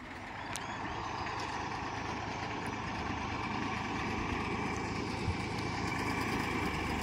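An original-condition Massey Ferguson 1035 DI tractor, a 2005 model, running its diesel engine: a loud, close, steady low rumble with a constant throb that doesn't change throughout.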